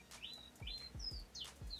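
A songbird gives a quick series of faint, rising chirps in a quiet room, a few notes spaced closely together.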